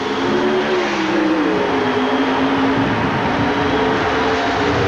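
1988 pro stock drag racing cars launching at Sonoma, California: a loud sustained engine roar with rising, shifting pitch that continues steadily throughout.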